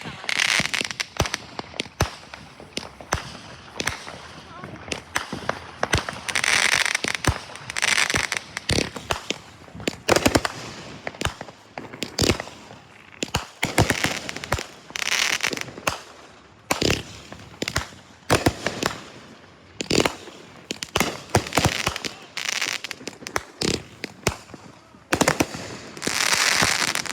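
A fireworks show bursts overhead in dense, rapid volleys of sharp bangs and crackling that go on for the whole stretch, loud and close, with occasional voices between the blasts.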